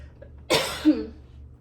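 A single abrupt cough up close, ending in a short throaty tail, against quiet background.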